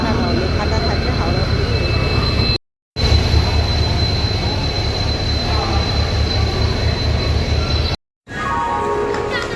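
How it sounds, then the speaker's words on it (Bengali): A long passenger train rolls into a station platform, loud rumbling wheels and clattering cars close by, with a squeal near the end; a voice is briefly heard. "হ্যাঁ দেখ ট্রেনটা ঢুকছে কত বড়, দেখেছিস?"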